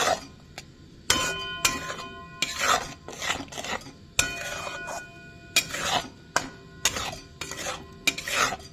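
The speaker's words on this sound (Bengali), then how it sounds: "হলুদ দিয়ে ভালো করে মশলাটা কষিয়ে নেব" Spiced masala with turmeric and salt cooked down in a pot, heard as close, irregular bursts of spoon scraping and clinking against metal with quiet gaps between strokes and no talking.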